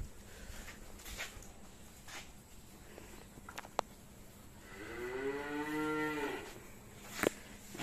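A heifer calf lets out a single drawn-out moo near the end, loud and close, after a stretch of faint rustling and clicks around the animal.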